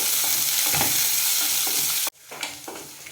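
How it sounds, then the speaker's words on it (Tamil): Pirandai, the adamant creeper, sizzles and fries in hot oil while being stirred in a pan, with steady loud frying noise and light scraping strokes; the sizzle drops sharply near the end, leaving quieter stirring. "அந்த பிரண்டை நல்லா ஒரு 2-3 நிமிஷத்துக்கு பக்கமாக நல்லா வதங்கிடுச்சு"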